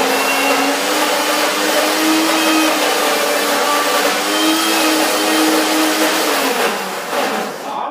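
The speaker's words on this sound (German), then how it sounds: "Der Mixer greift nicht so richtig." A blender motor whirs steadily and loudly throughout, struggling to grip a thick nut cream, its pitch wavering slightly as the mixture churns, with a small drop near the end.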